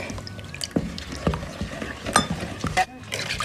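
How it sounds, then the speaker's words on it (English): A whisk scrapes and clinks in a bowl of regular milk and buttermilk being blended into a KFC-style coleslaw dressing: irregular, close strokes over a few seconds with a soft liquid slosh. "Use the whisk to get that mixed up better."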